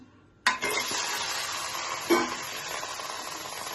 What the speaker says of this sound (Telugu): ఆనియన్, పచ్చిమిర్చి కూడా వేసేస్తున్నాం